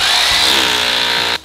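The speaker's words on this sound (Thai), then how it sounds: "นี่เราก็เจาะรูได้เลยครับ" A power drill whines loudly at high speed, boring a hole steadily into a hard surface for over a second during a kitchen range hood installation before it cuts off abruptly.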